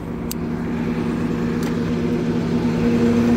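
A 2012 Freightliner crane truck runs its PTO air compressor to build air, a steady, close mechanical hum with a faint whine, holding level over a few seconds.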